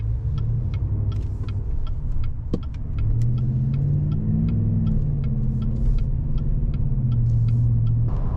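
GMC Sierra AT4 pickup engine running while driving at low revs around 1300 RPM, a steady mid-pitched rumble with a slight rise and fall, heard from inside the cab with faint ticking and rattles.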